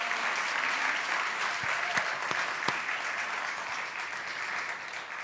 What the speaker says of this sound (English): Everyone, please give a round of applause to all of our presenters today.